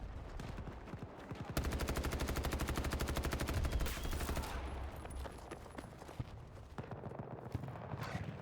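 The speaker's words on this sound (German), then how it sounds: "Alpha 1 unter Beschuss durch US-Kampfverbände" Sustained automatic gunfire from the Battlefield 2042 shooter, a long rapid burst of close rounds followed by scattered shots and battle noise.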